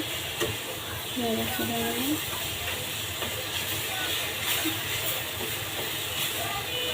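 Fine vermicelli (semai) fries and is stirred in a pan for a Bangladeshi jorda semai dessert, a steady close hiss and sizzle with soft scraping, while someone talks over it.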